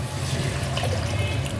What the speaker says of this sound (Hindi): मैं डाल दूंगी इसमें अब 2 कप पानी